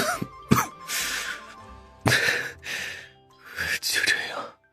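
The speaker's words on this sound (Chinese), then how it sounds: "他低低咳嗽着，喉间有血腥味漫上来" A man coughs softly, with a taste of blood in his throat. There are three short, breathy, low coughing bursts separated by quiet pauses, heard close up.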